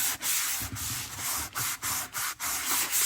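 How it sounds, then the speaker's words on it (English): Shiny journal cover pieces are scuffed up with rapid, close rubbing strokes, about a dozen short abrasive swipes with brief pauses between them and no speech. "I've done some scuffing. Some scuffing up to make these a little less shiny."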